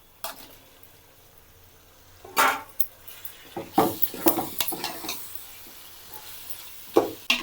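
Tomatoes and green chillies, added to onions, ginger and garlic paste and cinnamon-clove spiced oil for chicken biryani masala, sizzle in a pan while a spoon scrapes and clatters against the metal in irregular bursts, close up and without speech.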